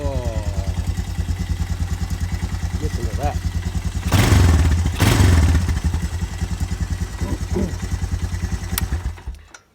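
A Honda Fourtrax TRX250 ATV engine runs after a starter motor repair, chugging in a loud, steady rhythm with two brief surges in revs midway before it cuts out, while someone speaks briefly over it.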